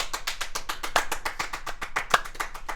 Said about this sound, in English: I have to do the clap.